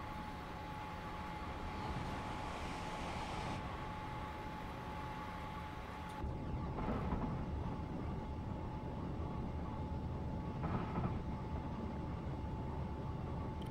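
A Class 444 electric train passes on the South Western Main Line in Train Simulator, heard as a steady, loud rolling rumble and hiss throughout that swells and thickens partway through, with no talk.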